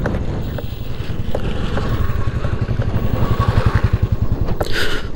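A Kasa SL electric scooter, an Indian-brand EV, sets off and rides, its steady low whir and road rumble pulsing under gusts of wind buffeting the microphone, with a brief brighter hiss near the end.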